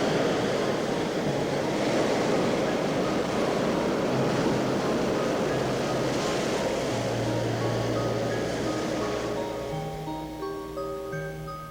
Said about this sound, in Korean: 바다는 깊은 해류를 생성할 뿐만 아니라 바람에 의해 물결이 만들어지기도 한다.